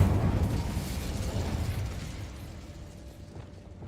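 A fire spell cast in the Hogwarts Legacy video game bursts out in a loud, rumbling whoosh that roars for about two seconds, then fades into a softer crackling tail with no voices over it.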